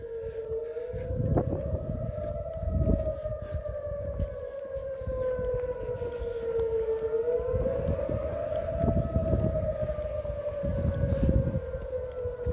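An outdoor civil defense siren in Mankato, Minnesota wails continuously, its pitch slowly rising and falling in long sweeps over a background of traffic-like rumble.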